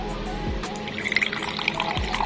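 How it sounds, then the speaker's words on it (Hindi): Water poured into a glass during a kitchen drink recipe with sugar, a short splashing trickle with small drips and clinks. "और इसमें डालते हैं थोड़ा सा पानी।"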